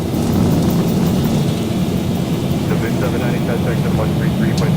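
A simulated airliner in the X-Plane 12 flight simulator (Zibo Mod) makes its takeoff roll and rotation, a loud continuous jet engine roar with broadband rumble, steady and close, with faint cockpit voices over it.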